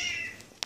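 A pet cat named Coco gives a single drawn-out meow, close and clear, that fades out and is followed by a brief faint click.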